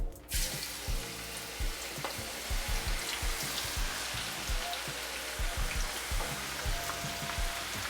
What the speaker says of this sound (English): We're gonna fry these until they're golden brown.